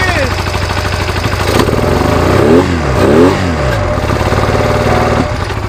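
A free Honda Rebel 250 motorcycle with a bent valve and freshly cleaned carburetor runs loud and close, revving up twice in sweeping surges over a rough idle.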